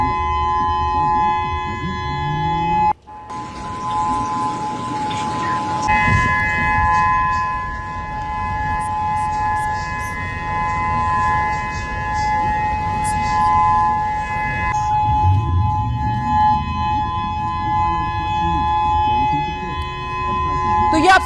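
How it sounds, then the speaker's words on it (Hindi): Civil defense tsunami warning sirens wailing steadily in Hawaii, a loud sustained tone that runs throughout, joined by layered wind and crowd-like background noise and a shift in pitch partway through. "ये हवाई आइलैंड्स में देखिए किस तरीके से सायरन बजाया जा रहा है"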